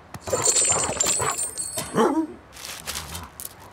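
Cartoon dog barking and yelping in an animated Rabbids Invasion episode, a few close, excited barks and whimpers mixed with energetic cartoon sound effects and a brief bright shimmer.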